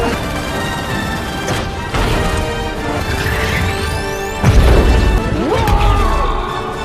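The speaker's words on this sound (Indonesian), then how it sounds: "Dengan kekuatan supernya, Sonic menghantam pesawat Robotnik hingga hancur." Heavy smashing and crashing as Robotnik's aircraft is destroyed in a Sonic the Hedgehog film, a loud dense wall of impacts and debris with a booming hit midway, set against a steady musical score.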